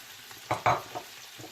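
Tomatoes, green chilies and mint leaves go into a frying pot for mutton yakhni pulao, giving a couple of quick splashy hisses and stirring scrapes at close range.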